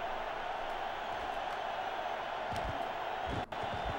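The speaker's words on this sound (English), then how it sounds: "Expect this crowd to be pretty raucous here tonight." Stadium crowd in NCAA Football 2004, a steady, dense roar of massed voices holding at an even level, with a few dull thumps beneath it.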